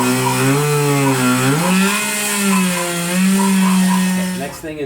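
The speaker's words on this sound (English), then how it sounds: "I'm going to use a oscillating saw to cut it out." An oscillating saw cuts a hole in drywall to install a hose bib with PEX tubing. It gives a loud, steady buzzing whine that shifts slightly in pitch for about five seconds, then stops near the end.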